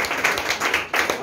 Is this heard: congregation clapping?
yes